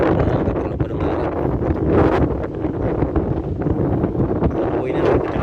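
Strong wind blowing in Mecca buffets the microphone in loud, continuous gusts with rustling, a heavy rumble throughout.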